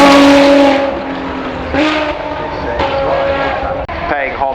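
A Ferrari 812 supercar's engine revs loudly and close, a high wail that drops away and then returns in shorter bursts, with a voice speaking over it.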